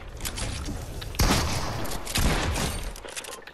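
Gunshots in Fortnite fire as a rapid volley of sharp cracks, loud and close, with two heavier blasts standing out in the middle, and no voices.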